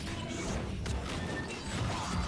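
Shatter impact in a Killer Instinct tournament match, a dense crunching smash with heavy low-end thump layered over continuous game effects and crowd noise, loud and sustained for a couple of seconds.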